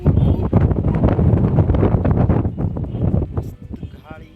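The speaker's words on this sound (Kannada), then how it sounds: "ಮಸ್ತ್ ಗಾಳಿ, ತಂಪು ಗಾಳಿ." Cool breeze on a summer day in a hometown, buffeting the microphone in loud, gusty rumbles that ease off and thin out near the end.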